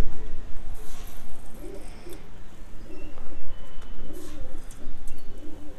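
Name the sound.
pigeons cooing while being fed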